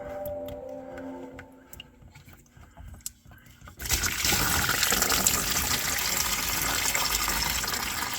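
Coolant gushes steadily from a loosened lower radiator hose on a 2008 Subaru Forester XT, a sudden, continuous splashing rush that starts partway in after quieter clicks and handling sounds.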